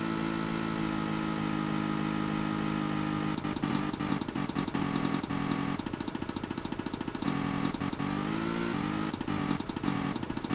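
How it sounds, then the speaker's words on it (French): A 1950s lawn mower engine in a video game, Tomb Raider II, drones steadily and loudly throughout, its pitch wavering and sputtering in places, with no voices. "Une tondeuse des années 50."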